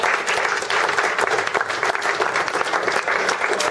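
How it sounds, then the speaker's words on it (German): Audience applause at a club's year-end party in Traunstein, dense steady clapping from a crowd filling the room, fairly loud and continuous throughout. "Dankeschön für den Applaus."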